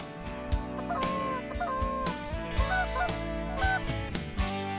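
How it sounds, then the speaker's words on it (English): Canada geese honking as they come in to decoys on a New York hunt, a flock giving repeated loud overlapping honks and clucks in quick irregular bursts, close and continuous with no talk. "when the geese do this, when those honkers come in like that and decoy"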